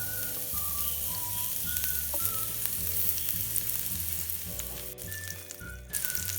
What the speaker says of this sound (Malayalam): അതിനായി ഞാനിവിടെ ഒരു പാനിൽ അല്പം എണ്ണ ഒഴിച്ച് ചൂടാക്കി വെച്ചിട്ടുണ്ട്. അതിലേക്ക് ക്യാപ്സിക്കം വെച്ച് കൊടുക്കുക.